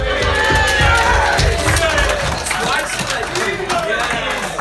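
Wedding guests cheer and clap loudly as a crowd during a speech, a dense, sustained roar of voices and applause that stays steady throughout.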